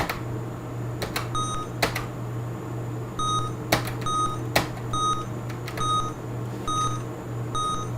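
Short electronic beeps from an Amstrad CPC computer sound in small repeated bursts amid sharp clicks and knocks, over a steady low hum.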